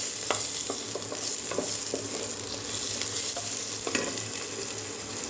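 Onion frying in a small amount of oil for a vegetable curry, a continuous close sizzle broken by scattered scraping and clicking strokes of a spatula stirring the pan.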